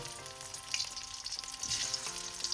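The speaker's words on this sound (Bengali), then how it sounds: "এবার আমি কড়াইতে তেলের মধ্যে দিয়ে দেবো, একটু লবণ দিলাম, সামান্য একটু হলুদ দিয়ে দিলাম, দিয়ে এবার আলুগুলোকে আমি ভেজে নেব।" Potatoes frying in hot oil in a kadai with salt and a pinch of turmeric, a dense steady sizzle with faint crackles and a couple of light stirring touches, close and fairly quiet.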